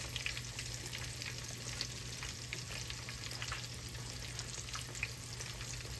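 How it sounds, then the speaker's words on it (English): Pork chops fry in a hot pan with a continuous, fine crackling sizzle, moderately quiet and steady, dotted with brief pops and a low hum beneath; no talking. "You definitely want to fry them."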